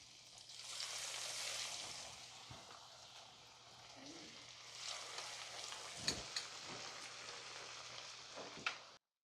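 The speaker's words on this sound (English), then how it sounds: "if you take some breadcrumbs and drop it in, and it sizzles like that" Food sizzles and crackles in hot oil, a steady hiss with a few sharper pops, close by and without talk.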